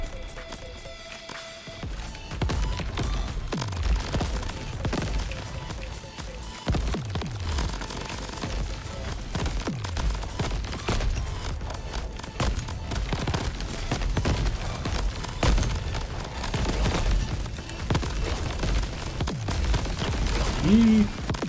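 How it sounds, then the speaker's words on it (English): Explosions and gunfire from a crab-themed shooter video game keep erupting in rapid, overlapping booms and sharp bursts, with grenades going off in a tight tunnel, under occasional player talk. "Too many explosions."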